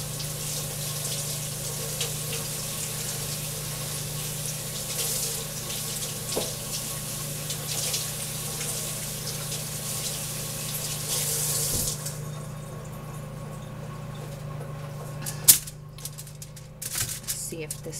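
Beef riblets rinsed under a running kitchen tap, with a steady rush of water into the sink for about twelve seconds before it shuts off, followed by a few handling clunks.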